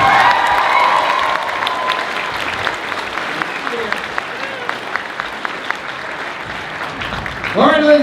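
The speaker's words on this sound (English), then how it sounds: "Another round of applause for these guys" A crowd at a 2017 opening ceremony applauds, a loud burst of dense clapping that settles into a lighter patter of scattered claps, before a voice rises at the end.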